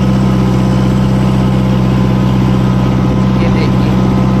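A Kubota MU4501 4x4 tractor pulling an 11-tine cultivator gives a loud, constant, throbbing diesel drone heard from up on the machine, with no letup.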